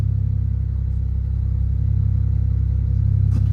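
BMW 335is with a single turbo kit pulling hard under acceleration, a loud, steady engine drone that holds up close with no one talking.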